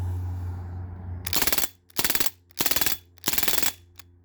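A Crosman A4-P CO2 airgun fires a rapid magazine dump, four quick bursts of snapping shots with short gaps between them, loud and close, with no talking.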